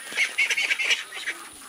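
Ducks on a farm giving a quick burst of several close, loud quacks in an irregular rhythm that fades toward the end.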